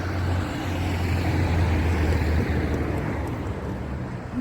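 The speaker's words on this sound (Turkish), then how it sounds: "Araba sesleri var ama artık kusura bakmayın." Car traffic rumbling beside a walking path, a steady broadband roar with a low engine drone running throughout and some wind noise, fairly loud and continuous with no talking.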